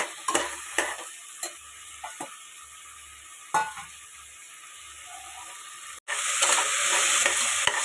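Tomatoes and fresh green peas cook in a pan with a low simmering hiss and a few spaced spatula scrapes, then a sudden louder burst of sizzling near the end, with no speech.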